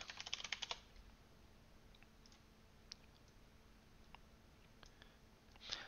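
A computer keyboard being typed on, with a quick cluster of close key clicks at the start, then a few scattered taps and a short final burst, faint against a low steady hum.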